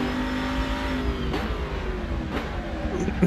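A racing car engine in the game Assetto Corsa, driven on the Nordschleife, revs and whines upward in pitch, climbing through gears in repeated surges, loud and close.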